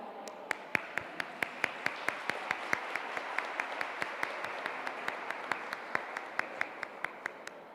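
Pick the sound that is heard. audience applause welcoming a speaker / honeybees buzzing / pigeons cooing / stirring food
audience applause welcoming a speaker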